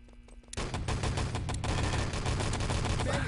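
Gunfire and grenade blasts from the video game Enemy Territory in a 3-on-3 LAN tournament match, with a burst of dense rapid shots that starts suddenly after a quiet moment and continues steadily.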